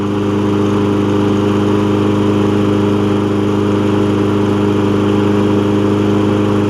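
A Toro Recycler lawn mower with a Kohler engine, worn wheels, a broken drive cable and missing choke parts runs at a steady, loud idle, its even droning hum unbroken throughout with no talking.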